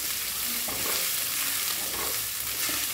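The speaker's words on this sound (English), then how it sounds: "Just saute it now." Ginger and five seeds sautéing in a pan over low gas for a Bengali fish curry tadka, a steady close sizzle with occasional soft stirring scrapes and no talking.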